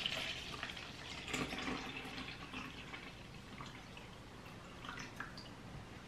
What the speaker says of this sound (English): So now we need to add 470 ml of water.